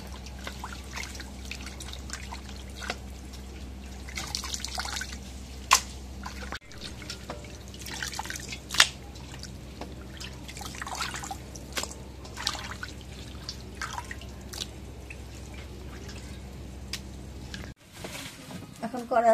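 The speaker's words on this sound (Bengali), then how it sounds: "মাংসগুলো ফোটা হয়েছে, এখন ধুয়ে নেই, ধুয়ে নিয়ে আনবি।" Water trickles and drips steadily while boiled goat meat is rinsed in a home kitchen, a faint continuous flow with scattered splashes and clinks over a low background hum.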